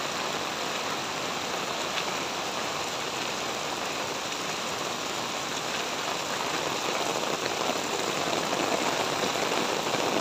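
Heavy rain pours steadily and fills a flooding driveway, a dense, even hiss of drops on wet surfaces that holds at the same level throughout, with no voices.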